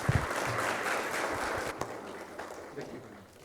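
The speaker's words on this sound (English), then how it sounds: "Please join me in welcoming Mr. Giri with round of applause" Audience applause welcoming a speaker at a professional accountancy membership event, steady indoor clapping from a moderate crowd lasting a few seconds and tapering off, with faint voices underneath.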